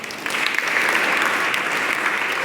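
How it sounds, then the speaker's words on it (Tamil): A class of students bursts into applause for a classmate at a confirmation preparation lesson, a loud dense clatter of hands that starts abruptly and holds steady and close, with no talk over it. "அவனுக்கு ஒரு பெரிய கைதட்டு கொடுத்துடலாமா?"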